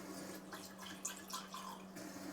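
Alkaline water runs from a Tyent ACE-11 water ionizer's spout, a quiet steady splashing trickle over a low electrical hum.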